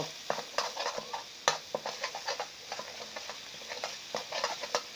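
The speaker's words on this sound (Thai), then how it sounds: "ใส่ลงไปเลยนะครับ คลุกเคล้ากันนะครับคลุกเคล้า" Crispy fried catfish in a spicy stir-fry sauce is stirred and tossed in a pan, giving close, irregular scrapes and clinks of utensil on metal over a soft sizzle, with no speech.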